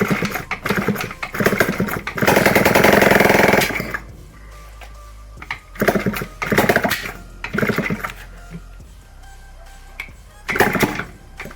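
A Minsk 125 two-stroke motorcycle engine fitted with a KTM sport ignition runs loud and close, revving hard in bursts between rough, popping lower idle stretches, with no talk.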